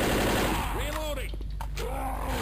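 Rapid gunfire from the zombie video game Left 4 Dead rattles on steadily for the whole stretch, with groaning, voice-like moans rising over the dense shooting.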